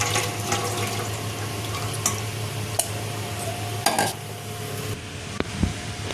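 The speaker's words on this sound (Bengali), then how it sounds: "এইভাবে হাত দিয়ে ছেঁকে জলটা নিয়ে নেব।" Soaked tamarind pulp is squeezed and strained by hand in a bowl, giving continuous close wet squelching and dripping with a few sharper clicks and splashes.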